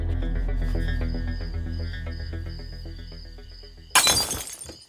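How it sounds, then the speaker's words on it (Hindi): Glass shatters in a sudden loud crash that cuts across steady background music in a drama scene, with a short scattering tail before fading. "कोई ग्लास तो नहीं टूट गया?"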